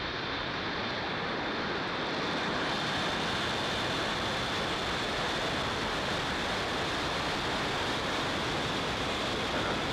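Rocket engines at liftoff produce a continuous, broadband roar like rushing surf that holds steady and distant for the whole stretch, with no voices over it.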